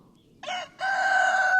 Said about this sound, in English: Mr. Rooster is screaming